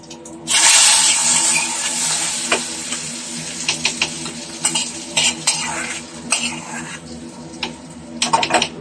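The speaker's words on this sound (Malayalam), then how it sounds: "ഒന്ന് ഇളക്കി കൊടുക്കുക" A utensil scrapes and stirs a papaya curry inside a heavy clay pot, with repeated clinks and scraping strokes at close range over a steady background hiss.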